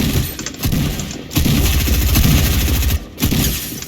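Video game gunfire crackles in rapid bursts of shots, loud and close, broken by brief pauses.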